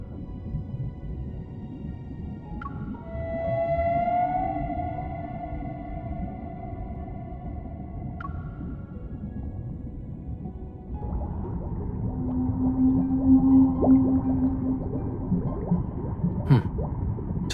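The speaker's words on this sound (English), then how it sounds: "Does this whale's song sound familiar to you?" A blue whale sings in the video game Love and DeepSpace with long, drawn-out tonal moans that rise and fall. The calls sound distant under a constant watery wash, and a sustained low call swells near the end.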